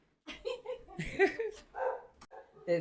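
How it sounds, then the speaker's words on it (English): A dog barks several times in quick, irregular bursts, fairly close. "We have a dog barking."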